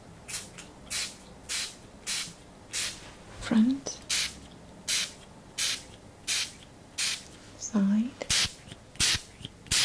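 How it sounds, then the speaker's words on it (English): A bottle of Douglas fir hydrosol sprays in a steady run of about a dozen sharp, close mist bursts at a regular rhythm, with soft spoken words in between. "So I'm going to just spray your back."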